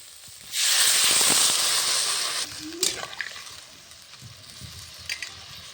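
Water poured into a pan of frying potato curry with heavy spices bursts into a loud, steady hiss that lasts about two seconds, then settles into a quieter bubbling with faint scraping.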